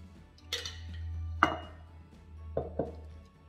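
A salad is stirred with mayonnaise in a bowl, giving a few faint, scattered knocks and clinks of utensil against the bowl over a quiet low hum, about four distinct taps spread across a few seconds.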